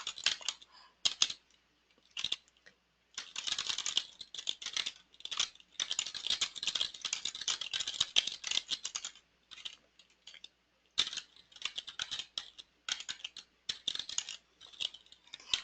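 Rapid, close clicking of typing on a computer keyboard comes in uneven bursts separated by short pauses, crisp and fairly quiet, with no voices.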